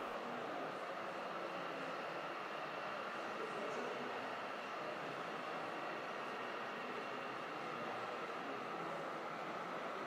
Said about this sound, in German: Der Zug nach Schweizer Vorbild besteht aus 11 Güterwagen, einem Personenwagen